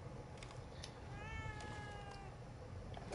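A cat in The Evil Within 2 gives one clear, drawn-out meow that rises and falls over about a second, heard alone against a low, quiet background hum.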